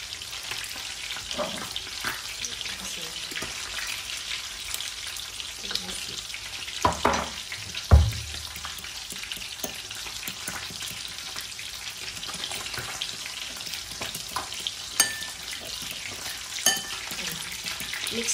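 Bangus tofu sisig is stirred in a frying pan, giving a continuous sizzle and frying hiss with occasional spatula scrapes and a few louder knocks against the pan, close up and without speech.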